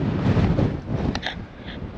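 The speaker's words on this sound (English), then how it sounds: "Man, the wind is about blowing us away today." Strong wind gusting outdoors while walking up to a ranch near Carlsbad Caverns, a loud broadband rumble buffeting the microphone throughout, easing slightly toward the end.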